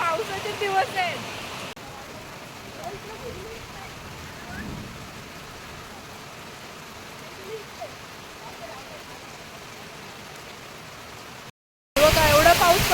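Heavy monsoon rain pours down in the Konkan with a steady hiss and patter on surfaces, louder at the very start and end, while someone talks through it.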